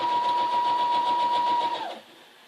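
A sewing machine stitches a flag with white thread in one steady, close whirring run that stops abruptly after about two seconds.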